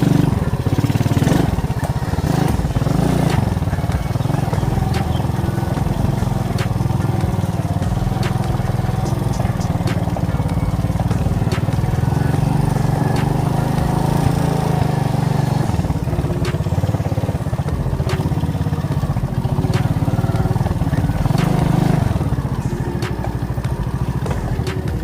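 An Alfa moped engine drones loud and close while riding through mud near a river, a continuous rough buzzing run with slight rises and falls in revs.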